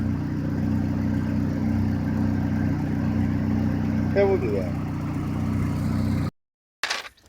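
A race car engine runs steadily nearby with a low droning hum and some vibration, a brief voice cutting in partway, before it cuts off near the end.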